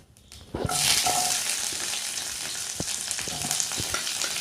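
Chopped onions hitting hot oil with browned urad dal for a mixed vegetable gravy, breaking into a loud, steady sizzle with occasional stirring clinks in the pan, close up and without any talk.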